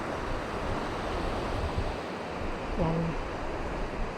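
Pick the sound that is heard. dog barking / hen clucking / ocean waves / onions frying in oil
ocean waves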